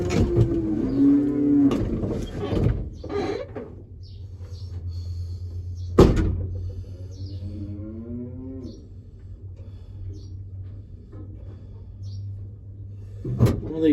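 Cattle low and moo at a farm feeding with a new calf present, several drawn-out calls near and clear over a steady low engine-like hum, with a sharp knock midway.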